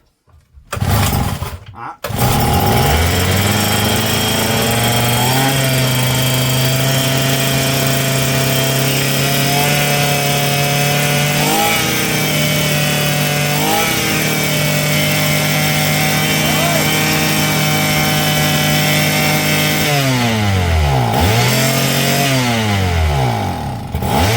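A small JLO two-stroke engine runs loud and close for the full stretch, revving hard with a steady buzzing note after a rough start, and its pitch dips and climbs again a few times near the end.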